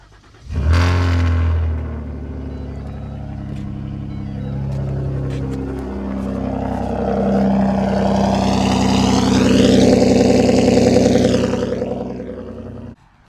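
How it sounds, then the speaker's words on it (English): A straight-piped, catless Ford Taurus Limited engine fires up from cold with a sharp burst, then settles into a loud, steady idle that swells into a higher rev near the end before cutting off. "Nice cold start."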